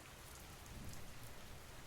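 Steady rain patters on a rooftop on a calm night, a dense, even wash of drops with no voices.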